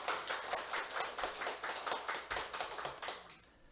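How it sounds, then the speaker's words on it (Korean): A small church congregation claps in welcome for a visiting pastor and his wife during a Sunday service, with a rhythmic patter of hands that is moderately loud and fades out at the end. "우리 박수로 한번 환영해 주시고요."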